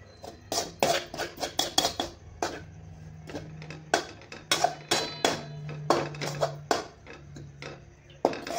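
Desiccated coconut dry-roasting in a pan for jaggery-coconut vadi, with a spatula clinking and scraping against the metal in quick irregular taps, close and fairly loud.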